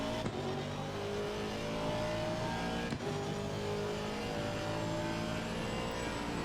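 An Aston Martin V8 GT3 racing at Suzuka in a racing video game, its engine droning steadily at high revs with a brief dip as it shifts; loud, continuous and close, with no speech.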